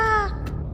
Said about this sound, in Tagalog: makarinig siya ng malakas na huni ng ibon